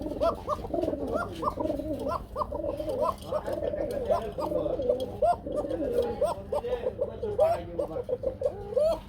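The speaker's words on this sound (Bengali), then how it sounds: "কুকা কবুতর কিভাবে ডাকে বন্ধুরা একটু শোনাই দিছি" Kuka pigeons coo repeatedly in a dense, rhythmic chorus nearby, with voices talking underneath.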